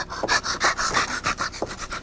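A dog pants quickly and rhythmically close up in a 1984 radio drama, a steady run of breathy huffs about five per second, loud and alone.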